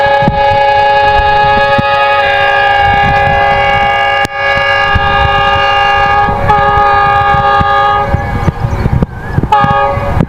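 The Karakoram Express, hauled by locomotive 9042, passes close by with a long, loud horn blast over heavy rolling rumble and clatter. The horn breaks off and sounds again near the end.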